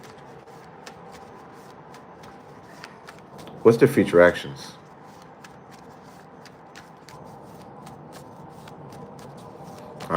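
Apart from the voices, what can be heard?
shuffling tarot cards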